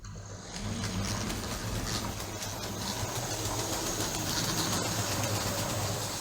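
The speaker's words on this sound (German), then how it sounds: "Jetzt lassen wir den Zug einige Male beim Bahnhof durchfahren." A LEGO 12V Inter City TEE model train (set 7740) runs through a model railway station, giving a steady, continuous rolling rumble with a low hum that holds at an even level throughout, no voices present.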